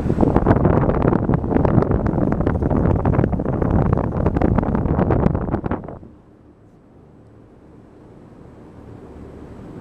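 Two Sturtevant Size 8 Design 5 propeller fans run on 50 hertz power at roughly 320–330 RPM, giving a loud broadband whoosh of moving air that suddenly drops to a much quieter, lower rumble partway through.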